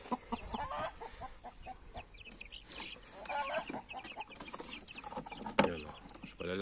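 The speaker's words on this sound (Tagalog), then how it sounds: "Tapos ito yung mga unang sisiyo na binala natin dito." Free-range chickens on a farm, including young birds about a month old, cluck in scattered, irregular bursts at low to moderate volume, with a louder call near the end.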